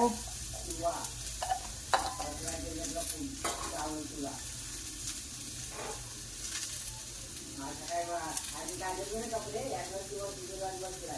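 Onions fry in a pan for a Maharashtrian chicken rassa and sukha meal, with a soft continuous sizzle and the scrape of stirring beneath someone talking almost continuously.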